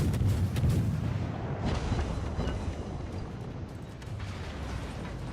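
Heavy warship cannon fire in the naval video game War of War Ship, a continuous rumbling barrage of booming shots and explosions that stays loud and dense throughout.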